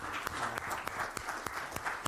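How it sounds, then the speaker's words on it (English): Round of applause from a conference audience after a keynote, moderately distant clapping with a few sharper individual claps standing out over a short stretch. "I think we owe Harsha an amazing round of applause"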